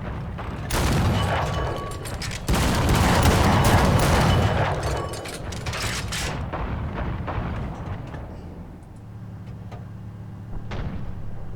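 Gunfire and heavy booms in the War Thunder video game, dense overlapping shots and blasts for several seconds before thinning out to scattered reports.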